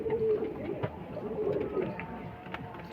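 Kasuri pigeons coo in low, soft repeated phrases, fairly close, with light background rustle throughout.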